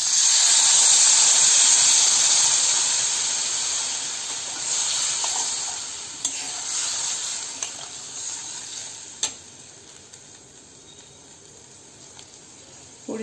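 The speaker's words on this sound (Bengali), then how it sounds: "কষানো হয়ে গেছে, এবার আমি জল দিয়ে দিচ্ছি।" Water poured into a pan of fried spice paste for a chitol fish curry, giving a loud burst of sizzling hiss that slowly dies down to a softer simmer with a few faint utensil clicks.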